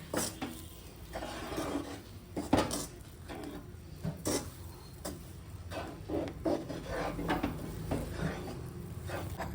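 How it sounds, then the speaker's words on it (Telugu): Ladle scraping and stirring a thick milk powder burfi mixture in a pan over a flame, a steady close rasping and rubbing with occasional louder scrapes and knocks against the pan. "ఇలా గరిటతో కలుపుకుంటూ 4 to 5 మినిట్స్ లో ఫ్లేమ్ మీద కుక్ చేయాలండి"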